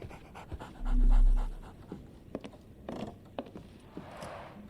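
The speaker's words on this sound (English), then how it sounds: "So, Barnes has a dog now. Who's a good boy?" A dog in a Sherlock Holmes video game pants in quick, breathy bursts, with a louder low thump near the start and scattered soft clicks around it.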